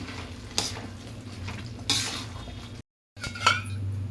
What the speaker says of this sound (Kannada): ಈಗ ಚೆನ್ನಾಗಿ ಮಿಕ್ಸ್ ಮಾಡಿ.